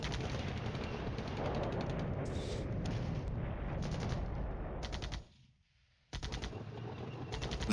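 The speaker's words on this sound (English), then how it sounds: "But the artillery is doing work" Sustained artillery fire in the Cold War wargame Flashpoint Campaigns rumbles as a dense, loud barrage of booms and rattling shots, broken by one brief near-silent gap before resuming.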